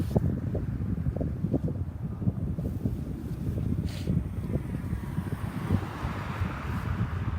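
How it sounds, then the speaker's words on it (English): Gusty wind buffets the microphone in a continuous low rumble with irregular thumps, loud and close throughout. "It's windy out here"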